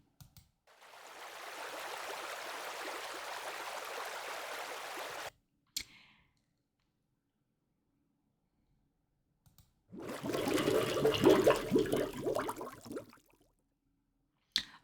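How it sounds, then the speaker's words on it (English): A stock water sound effect plays twice, a rushing, splashing burst lasting about five seconds, then silence broken by clicks, then a second, louder gush of about three seconds. "videos with water, and here there'll be some audio with water"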